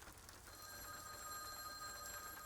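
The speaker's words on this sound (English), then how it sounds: "The phone's incessant ringing continued." A telephone rings steadily and without pause, its bell tones sustained and fairly faint over a low background hiss, with no voices present.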